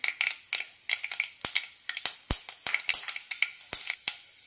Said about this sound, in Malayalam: ഇതിലേക്ക് കടുക് ഇടാം. കാൽ ടീസ്പൂൺ ഉലുവ ഇടാം.